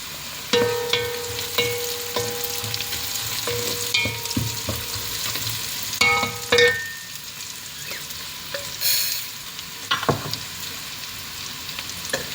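Fennel seeds hit hot oil with curry leaves for a Sri Lankan mutton curry. A close, crackling sizzle is punctuated by repeated spoon clinks and scrapes, then settles into a quieter fry with a few more knocks.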